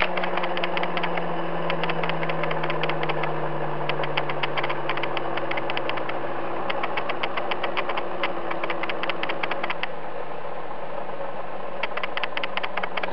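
A homemade pulse motor generator runs steadily, giving a continuous mechanical hum with a slowly falling tone and bursts of rapid ticking pulses, close and loud throughout.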